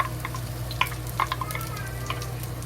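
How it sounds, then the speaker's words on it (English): Chopped ginger and scallion fry in hot oil for a Chinese pork boil, giving a steady close sizzle with scattered crackles and pops while being stirred, with no voices. "Slowly fry until the ginger and scallion release good smell."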